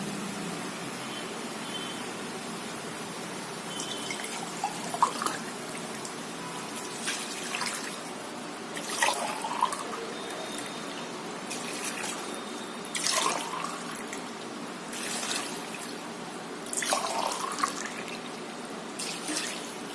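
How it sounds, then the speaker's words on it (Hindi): Water is poured from a glass in several separate bursts, splashing into a pot of rice between quieter pauses, with faint background noise. "इसी गिलास से नापकर हम 4 गिलास पानी डाल देंगे"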